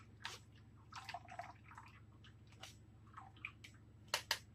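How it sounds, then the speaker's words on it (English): Sweet potato drink for Jamaican blue draws being strained, giving scattered soft drips and wet squishes over a low steady hum, then a few sharper splashy drips near the end. "When you strain it like that, you get everything out of it."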